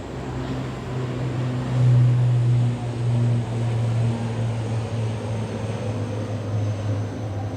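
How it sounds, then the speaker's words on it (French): Airplanes flying overhead, a broad steady engine roar that swells and holds at a distance with a low droning tone, heard outdoors without speech. "de me faire du bruit, les avions, ils me narguent."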